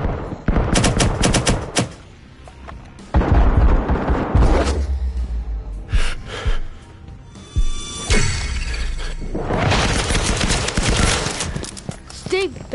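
Rapid automatic fire and single shots crack in the tactical shooter Firewall Zero Hour, arriving in loud clustered bursts with brief gaps. Game voice callouts and player talk come through between the volleys.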